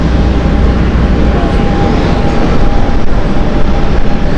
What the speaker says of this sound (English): We're just waiting for Transat to take off.